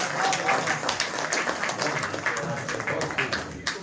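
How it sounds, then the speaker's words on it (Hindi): Audience applause at a ghazal poetry gathering, steady dense clapping carrying on for several seconds at moderate loudness. "हाँ, आप तालियां बजा सकते हैं"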